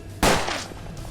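A single loud, sharp gunshot from a Navy gun in the western game Hard West, cracking close and sudden, then decaying into a short, fading echo.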